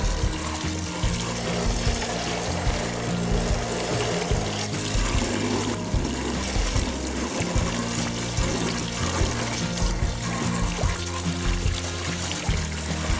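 A high pressure hose flushes water through a gold mining highbanker at a Washington State dig, a loud continuous rushing and splashing close by, steady throughout with gurgling surges and no talk.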